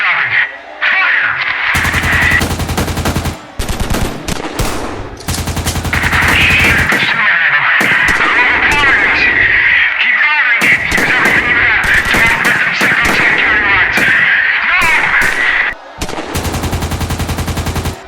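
Soldiers open fire in a zombie-virus emergency alert scenario: repeated loud bursts of machine-gun fire with short gaps between them, over a constant high radio-like tone.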